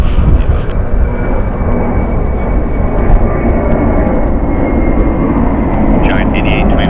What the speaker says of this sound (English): Atlas Air departing here. Flight 8829, going to Fairfield. It's a Boeing 747 freighter